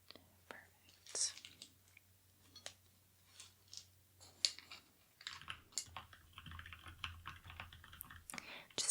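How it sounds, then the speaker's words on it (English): Computer keyboard typing, close, soft and irregular clicks in quick bursts under quiet whispered speech, with a low steady hum underneath. "Just typing up my final notes"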